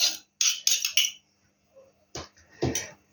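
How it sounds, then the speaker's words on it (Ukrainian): Spoon stirring cheese into cooked pasta in a pot, a few clustered clinks and scrapes of metal against cookware, then softer dull knocks and scraping, close and without talk. "І перемішаю, щоб гарненько розійшовся по макаронах сир"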